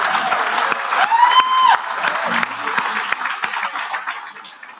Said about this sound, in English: Could we have another round of applause for our past rectors?